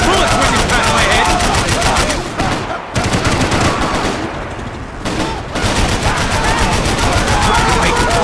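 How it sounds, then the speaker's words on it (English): Dense, sustained bursts of automatic gunfire in a Max Payne 3 shootout, loud and close, with rapid rattling shots and brief lulls near the middle; voices shout faintly under the barrage. "I can't concentrate with bullets whizzing past my head"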